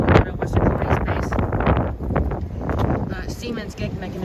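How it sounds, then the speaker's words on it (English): Strong gusting wind buffets the microphone at a railroad crossing with Siemens gate mechanisms ahead of incoming storms. The roar is continuous and close, and someone talks over it. "It's very windy today because there's storms rolling in tomorrow."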